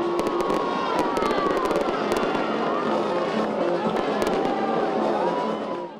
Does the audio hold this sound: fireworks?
yes